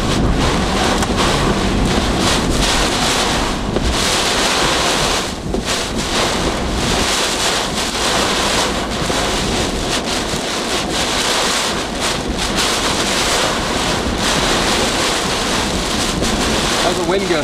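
Strong wind buffets the microphone while heavy rain pounds a moving vehicle, a loud, continuous roar of gusts and downpour lasting throughout with no break.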